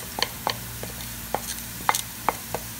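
Onions frying in a pan with spices added, soft irregular stirring clicks and scrapes over a faint steady sizzle.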